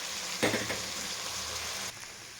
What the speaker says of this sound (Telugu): ఇప్పుడు దీంట్లో రైస్ అనేది యాడ్ చేసుకుందాము. యాడ్ చేసుకొని మంచిగా మిక్స్ చేసుకోవాలండి.